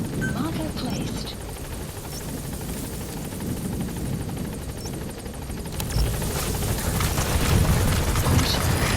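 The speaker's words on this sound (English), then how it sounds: "Support helicopter has arrived." A support helicopter in the video game Metal Gear Solid V: The Phantom Pain gives a steady low rotor rumble across the whole stretch, swelling louder toward the end as it arrives, with game voice lines over it.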